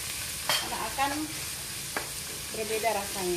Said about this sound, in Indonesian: semua bumbu kita masukin. Ya, kita tumis sampai bumbunya matang.